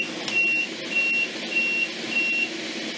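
A self-driving car maneuvering on a street in Tucson, Arizona, gives four evenly spaced electronic beeps, each about a third of a second long, moderately loud over a low background of traffic and outdoor rumble.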